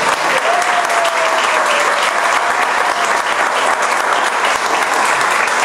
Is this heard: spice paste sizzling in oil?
no